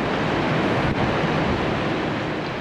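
A constant, heavy wash of crashing three-metre surf on the North Atlantic coast at Nouakchott, Mauritania, fills the air, loud and broad, with wind noise buffeting the microphone.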